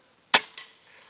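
A single air gun shot fired through a Neo Gorilla silencer with an MSB pellet: one sharp, muffled pop followed a moment later by a softer secondary knock, otherwise quiet.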